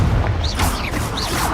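The Confringo explosion spell in Hogwarts Legacy, a heavy booming blast rolling through the whole moment with low rumble and crackling debris, brief whooshing spell effects layered on top.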